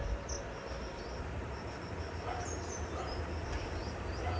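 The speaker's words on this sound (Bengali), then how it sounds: "নিচে দেখো ঝিঝি পোকার আওয়াজ পাবে কিন্তু।" At dawn, crickets chirr in a steady, faint, high-pitched drone that carries on without pause, with a few faint bird notes in the background.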